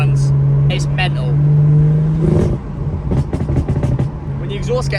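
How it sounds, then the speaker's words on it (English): Close, loud car engine noise with crackling, popping bursts of overrun exhaust burble from a hot exhaust, a person talking over parts of it. "When the exhaust gets hot, the overrun burble has become so much more aggressive."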